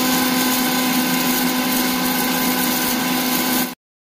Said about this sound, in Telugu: ఉల్లిపాయలు, పచ్చిమిర్చి, టమోటాను మిక్సీలో వేసుకుని గ్రైండ్ చేసుకోవాలి